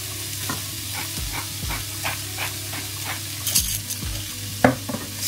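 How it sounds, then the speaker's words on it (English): Curry coconut chickpeas are stirred in a hot pan, giving a close, steady sizzle broken by repeated scraping strokes of the spoon and a few louder clinks near the end. "Give that a good stir, then some freshly ground black pepper."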